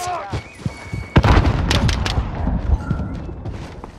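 Grenade blast during Call of Duty Modern Warfare multiplayer gameplay: one heavy boom and thud about a second in, with rumbling debris and scattered gunfire after it, loud among game noise and some voices.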